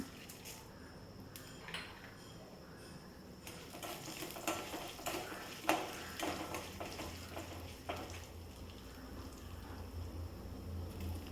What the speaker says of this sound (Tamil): பாருங்கள் ஆயில் சூடாயிருச்சு இப்போ கொஞ்சமாக கடுகு சேர்ந்து சேர்த்திக்கலாம் பாருங்கள் கடுகு பொரிய ஆரம்பிச்சிருச்சு